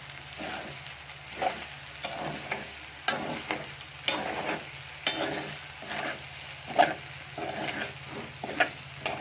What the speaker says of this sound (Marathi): व्यवस्थित असे हलवून घ्यायचे